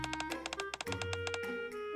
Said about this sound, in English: Arcana skillfully shuffles the deck.